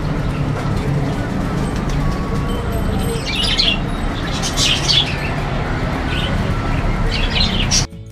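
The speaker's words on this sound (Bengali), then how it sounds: "সুন্দর কবুতরগুলো উঠছে।" Pigeons take off in a rural-style garden decorated with hurricane lanterns, heard as brief fluttering and chirping bursts over a steady, loud outdoor background hum, with a voice faintly present.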